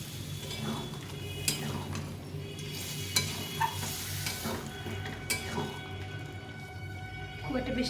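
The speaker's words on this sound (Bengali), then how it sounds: "1 বাটির মতো জল দিয়ে দেবো।" About a bowl of boiled water goes into a pan of frying soybean curry with potatoes, setting off a loud, continuous sizzle with stirring scrapes and occasional clinks of utensil on pan.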